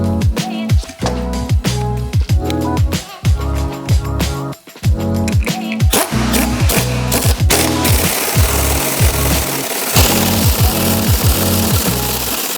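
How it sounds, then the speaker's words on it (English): Pneumatic air tool driving a spring compressor on a BMW X5 suspension, a loud rapid hammering rattle in repeated bursts that settles into continuous impacting toward the end, close up and without speech. "Remember, you're not supposed to use air tools on spring compressors."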